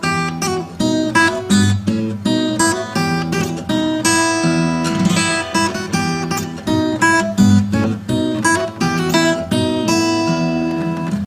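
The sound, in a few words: guitar playing a Bach piece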